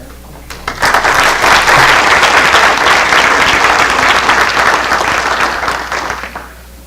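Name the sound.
applause at city council meeting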